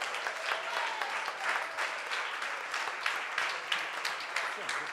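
Guests at the IPAG 2017 entrepreneur trophy ceremony applaud during a closing photo session, a sustained, moderately loud clapping with voices talking over it.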